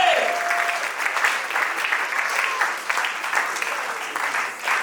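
A church congregation claps and cheers in steady, sustained applause for the glory of God, a full crowd sound that holds for several seconds.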